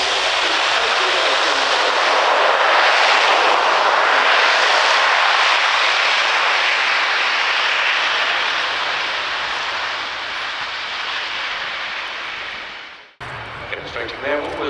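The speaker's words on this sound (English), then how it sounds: "Demonstrating there what was called a max effort takeoff" A Luftwaffe Airbus A400M Atlas turboprop transport makes a max effort takeoff at an air show, its loud, broad engine roar slowly fading before cutting off, with a commentator speaking faintly.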